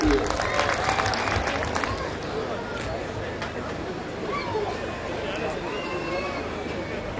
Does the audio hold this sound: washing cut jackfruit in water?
no